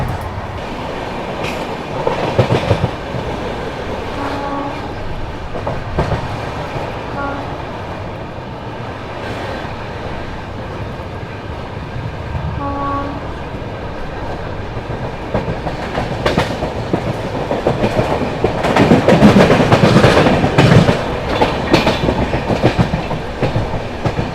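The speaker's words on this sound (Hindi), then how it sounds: "हावड़ा से चलकर जबलपुर की ओर जाने वाली शक्तिपुंज एक्सप्रेस का पैरेलली ओवरटेक कर रहे हैं" Indian express trains running side by side as one overtakes the Howrah–Jabalpur Shaktipunj Express, with steady rolling rumble, rhythmic clickety-clack of wheels over rail joints and brief squeals, swelling louder near the end.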